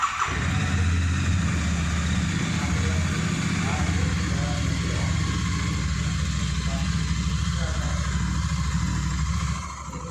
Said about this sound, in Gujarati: હું તમને બાઇક ચાલુ કરીને બાઇકનો અવાજ સંભળાવું.